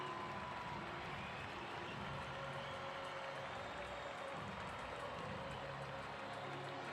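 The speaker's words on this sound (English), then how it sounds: "And even the very best applaud." Stadium crowd at an international football match, Portugal against Nigeria, applauding a goal: a broad, steady wash of distant clapping and crowd noise that holds evenly throughout with no distinct individual claps.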